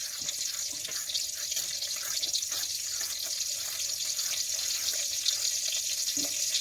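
Tap water runs steadily into a sink for washing mixed vegetables for a Thai kaeng liang soup, a continuous close hiss with light splashing and drips.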